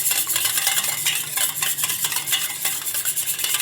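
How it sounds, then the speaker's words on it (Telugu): A whisk beats egg and salt together in a bowl, making a fast, continuous rhythmic clatter against the sides. It sounds close and steady, with no voices. "ఇలా బాగా విస్కర్ తోటి బాగా కలుపుకోవాలి"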